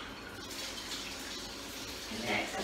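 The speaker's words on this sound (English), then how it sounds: "I'm splashing in my shower in my bath." Water splashing and running in a home bathroom shower and bath, a steady broadband wash with a brief louder gush near the end, close and continuous with no talk over it.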